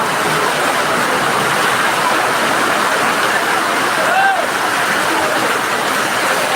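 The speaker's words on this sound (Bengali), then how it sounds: "কাঁচা বাজারে সমানে বৃষ্টি পড়তেছে।" Heavy rain pours down over an open vegetable market, a dense, loud, continuous roar of falling water and splashing with no clear breaks.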